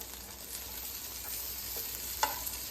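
Tandoori-style mutton chops fry in a pan over a medium gas flame, giving a soft continuous sizzle with a few light clinks as the pieces are turned over.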